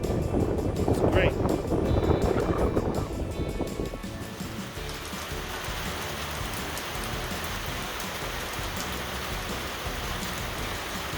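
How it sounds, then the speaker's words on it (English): Rain falls on a newly repaired tile roof as a steady, even hiss of patter. Someone talks over it for the first few seconds, and then the rain continues alone. "2 days after we get the roof leak fixed, we had a nice little rain."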